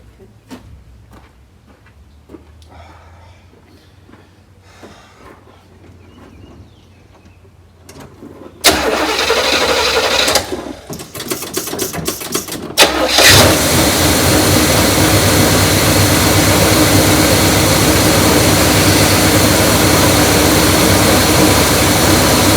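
A neglected 1972 big-block V8 cranks and fires at about nine seconds, stumbling and surging briefly, then settles into a loud, steady rough idle that continues to the end after a quiet stretch with faint background noise.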